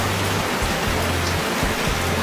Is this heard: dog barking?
no